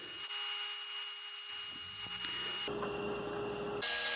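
Three pieces of wood taped together are cut through at once by a power tool, a steady whirring drone that shifts in pitch and load partway through, with no talking.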